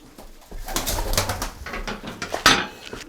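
Racing pigeons in a loft coo and call repeatedly, several birds close by, with a short clatter near the end and no talk.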